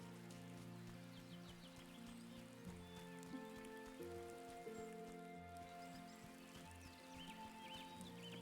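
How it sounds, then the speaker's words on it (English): Steady light rain in the game Wylde Flowers patters throughout, soft and even, under a calm looping musical tone with faint bird chirps. "Yay, it's raining."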